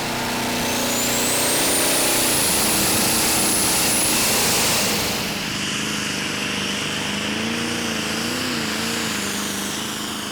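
A 1,200-horsepower Iveco R6 pulling-tractor engine roars at full throttle during a tractor pulling championship run, loud and sustained, with a rising whine that peaks and then settles into a lower, steady drone.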